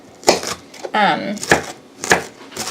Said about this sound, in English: I started by chopping my bell peppers.